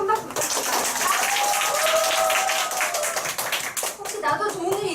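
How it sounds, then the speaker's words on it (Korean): A crowd applauds with dense, continuous clapping at close range, steady and loud throughout, while a faint voice and tonal sounds mix in. "다시 한번 큰 박수 부탁드립니다"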